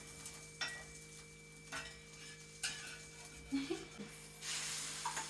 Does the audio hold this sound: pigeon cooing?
no